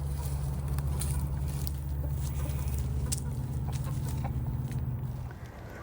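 Chickens clucking faintly on a farm, with scattered soft clucks over a steady, loud low rumble that eases near the end.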